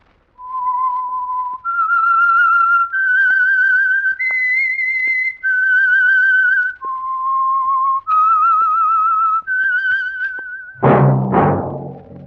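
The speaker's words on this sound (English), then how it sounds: "That whistle is your signal for the Signal Oil Program" A clear, loud whistled melody of held notes stepping up and down, ending with a sudden brief burst of noise; the theme whistle of the 1948 radio drama The Whistler.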